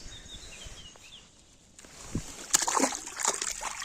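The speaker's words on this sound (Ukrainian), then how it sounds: "Випустимо його назад. У водичку хай йде, плаває" A fish is released back into lake water, making a brief splash and a few sloshing, dripping sounds after a quiet lead-in, with faint ambient outdoor noise.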